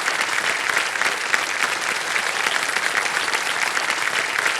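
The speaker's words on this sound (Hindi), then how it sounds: "आपके लिए ताली बज गई है, बहुत बहुत बधाई आपको।" The studio audience of the TV quiz show Kaun Banega Crorepati breaks into loud, sustained applause, with dense, even clapping that continues for several seconds.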